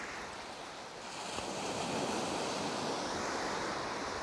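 Waves wash steadily onto a coastline, a continuous broadband roar that swells slightly after the first second and holds, with some wind buffeting the microphone and no talking.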